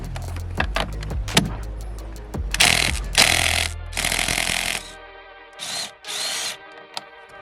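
Ratchet with a 16 mm socket working the steering wheel bolt loose on a BMW E46 M3: a run of close clicks and metallic clatter, then bursts of ratcheting and a few sharp knocks near the end, with no talk.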